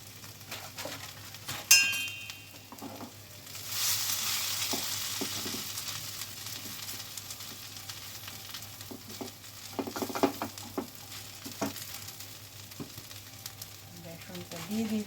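Gram flour frying in a pan, heard as a soft steady sizzle with occasional clinks of a utensil against the pan, low in level and fairly close throughout.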